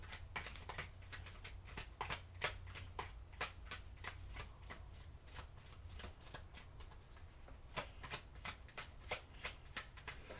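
Tarot cards being shuffled by hand, a steady run of quick crisp riffles and flicks repeating close to the mic at a soft level, with no talk over them.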